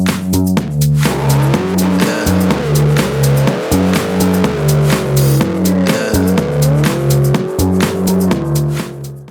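A car engine roars and revs repeatedly, loud and close, with rising and falling pitch and a brief squeal of tires.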